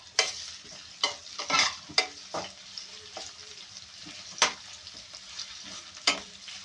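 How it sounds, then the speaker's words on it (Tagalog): Ginger sautés in a hot pan for ginisang munggo, a coconut-milk mung bean stew, with a steady close sizzle broken by several sharp scrapes and stirring knocks from a utensil, and no talking. "Hintay lang natin isang minuto na maluto kunti yung ating ginger."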